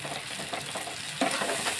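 Okra masala sautéing in a pan, cooked hotel-style with a little water added, gives a steady close sizzle with stirring scrapes throughout and no talking.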